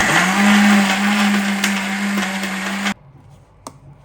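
A Prestige kitchen mixer grinder grinding chutney whirs loudly at a steady pitch for about three seconds, then cuts off abruptly, followed by a faint click.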